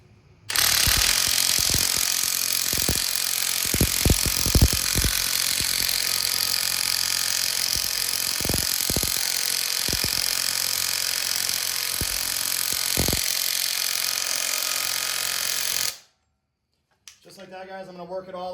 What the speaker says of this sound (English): And then from here, I'm just gonna slowly work it in with my smaller drill.